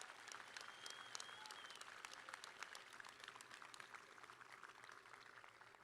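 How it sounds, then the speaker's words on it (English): Audience applause at a 2021 high school graduation ceremony, a sustained, fairly faint patter of many hands clapping, heard from a distance in a large hall. "How about a round of applause?"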